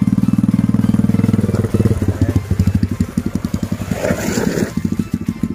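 Trail motorcycles ride up a hill, one nearby engine chugging in a loud, rapid rhythmic putter that eases and picks up again as the bike climbs, with higher revving from more bikes further off.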